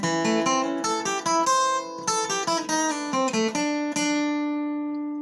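Acoustic guitar plays the first two licks of a tune as a quick run of clean plucked notes with a light syncopated feel, alone and close, the last note ringing out.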